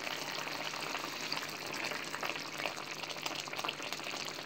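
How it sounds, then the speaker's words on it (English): Thick sauce bubbles in a fry pan, a soft, continuous, low-level simmering hiss with faint pops, steady and unbroken, with no speech. "it's starting to bubble nice and thick"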